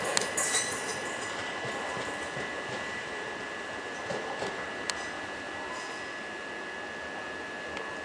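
A Class 375 train sits at Ramsgate station, with a steady rail hum and a constant high electrical whine, plus occasional faint clanks and squeaks from the platform, heard alone without voices.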